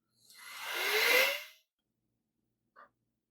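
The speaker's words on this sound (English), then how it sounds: "I noticed there's some little metal shavings I'll blow out of this area" A single strong puff of compressed air blasts across the inside of a PC case, clearing small metal shavings near the standoffs. It hisses loudly for about a second and a half, then one short faint click follows.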